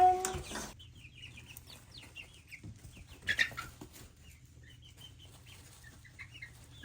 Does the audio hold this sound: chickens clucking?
yes